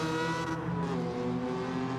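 Lancia Stratos or Dino race car engine in Gran Turismo 7, a steady, raspy, high-pitched engine note holding loud and continuous with strong harmonic whine and no talk.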